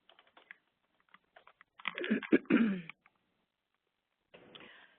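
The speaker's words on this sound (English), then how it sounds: "it helps if you type it in the right spot" Computer keyboard typing comes in sparse, quick clicks and short bursts of keystrokes, with a louder, denser flurry midway and a brief final burst after a pause.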